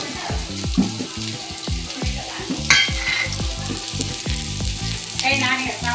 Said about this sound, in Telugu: చిన్నగా తరిగి పెట్టుకున్న ఉల్లిగడ్డ చిన్నగా తరుక్కున్న పచ్చిమిరపకాయలు అయితే వేసుకున్నాం కొంచెం ఫ్రై కానివ్వాలి